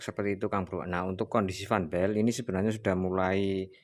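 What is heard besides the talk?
No everyday noise stands out behind the speech.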